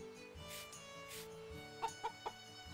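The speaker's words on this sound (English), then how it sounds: "Oh, look at my cute little chicken!" A chicken in the farming video game Story of Seasons gives a few short, quick clucks near the end over a soft background game music track.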